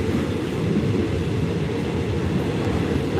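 A passenger train rolls toward Kanchanaburi, Thailand, with a loud, steady low rumble of wheels and carriage heard from inside, constant throughout and without talk.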